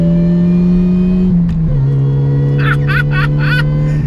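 A supercharged Toyota Yaris engine drones, then drops and shifts pitch before rising again in a steady growl while accelerating; a few brief high chirps come near the end.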